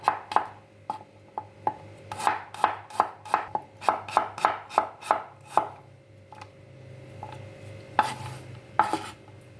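A knife thinly slices small garlic cloves on a cutting board, about twenty crisp, sharp taps in an uneven rhythm, close and clear against a quiet kitchen with no talking.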